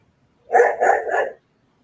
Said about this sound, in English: the dog is barking to something